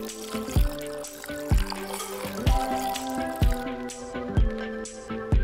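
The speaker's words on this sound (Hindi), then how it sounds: "पहले पानी मिलाएंगे।" Water poured and stirred while mixing a homemade orange cake batter, with soft drips and sloshing plus periodic clinking taps of a utensil against the bowl, fairly quiet and steady.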